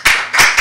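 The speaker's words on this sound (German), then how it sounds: "Applaus." Three short bursts of hand clapping from a small group at a live German talk-show event, each burst quick and close, separated by brief pauses, with no voices heard.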